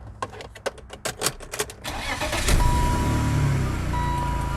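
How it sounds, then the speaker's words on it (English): A car being fired up after basic repairs: a quick series of starter clicks and cranking, then the engine catches and settles into a steady close idle, without talk. "we're gonna go ahead and fire the car up"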